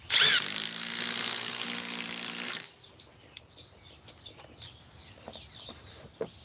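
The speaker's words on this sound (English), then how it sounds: "I was trying to drill a hole and forget it." Battery-powered cordless drill trying to bore a hole while its battery is dying, giving one loud, high whirring burst of about two and a half seconds that cuts off abruptly, followed by faint clicks and small knocks.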